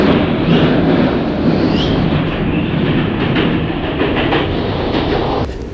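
A London Underground train rumbles loudly through a station at rush hour, a dense, roaring, continuous wash of wheel and track noise with faint clattering, close and steady throughout before easing slightly at the end.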